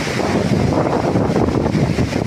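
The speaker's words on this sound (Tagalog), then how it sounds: "Tingnan nyo po yung hangin." Loud, steady roar of super typhoon wind buffeting the microphone, with gusty broadband noise throughout and no voices.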